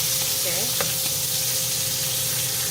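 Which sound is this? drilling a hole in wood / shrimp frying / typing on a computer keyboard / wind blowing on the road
shrimp frying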